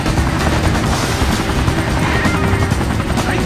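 Helicopter in the video game XIII, a steady loud rotor and engine roar filling the whole stretch, mixed with dense in-game gunfire and battle noise.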